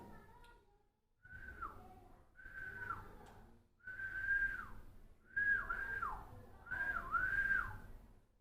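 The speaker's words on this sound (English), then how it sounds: "In order to draw the attention or divert the attention of someone, we whistle using our lips." A person whistles with pursed lips in a series of five rising and falling phrases, each lasting roughly a second, with short pauses between them. The whistling is clear and fairly close, and there is no talking over it.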